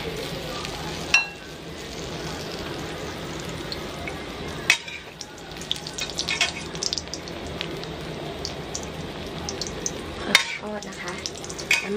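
Egg omelette with cha-om (acacia) leaves frying in plenty of oil in a small pan, giving a steady close sizzle and crackle throughout, with occasional stirring clinks and a few sharp taps.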